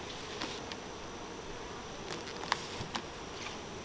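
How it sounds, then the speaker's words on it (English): Honeybees buzzing around a hive in a steady, continuous hum, with a few louder passes and brief taps standing out. "Lots of bees up here."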